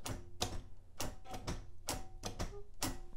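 A typewriter's carriage jumps along under the tab key in a series of sharp, close mechanical clacks, about seven strikes at irregular intervals with faint ringing tones between them.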